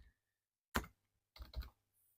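A few separate bursts of computer keyboard typing into a search bar, crisp and close in a quiet room, with short pauses between the clusters of key presses.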